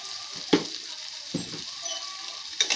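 Food frying in a home pan after salt and turmeric have gone in: a soft continuous sizzle runs underneath, broken by three sharp scraping stirs of a spatula against the pan, close up and with no talking.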